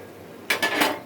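A spoon clinks against a cooking pot as chili powder goes into tomato pepper rasam, two or three quick metallic taps close by, with no talking.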